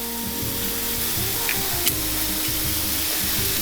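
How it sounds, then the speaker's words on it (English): Sausage meatballs fry in a pan with a constant, close, bright sizzle and fine popping of hot fat, plus a couple of faint clinks, and no voices over it. "The sizzle is for real."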